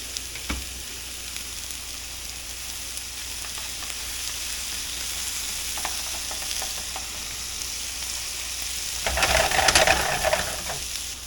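Pieces of Kerrygold butter sizzle and fry in a hot pan, a steady close crackle that swells louder near the end, with a few light clinks of utensils.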